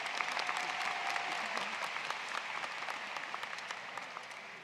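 A high school graduation audience claps for a concert band, dense steady applause from a large crowd at moderate distance that slowly fades toward the end.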